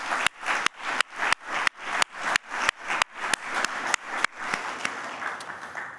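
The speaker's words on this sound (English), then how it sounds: "So let's give Paul another round of applause" A meeting audience gives a round of applause at an annual gathering of the Architectural League. The sharp, evenly spaced loud claps thin out into softer, scattered clapping toward the end.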